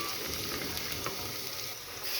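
Two bay leaves frying in a generous amount of hot oil in a pot for pilau give a steady, close sizzle that hisses evenly throughout without pause.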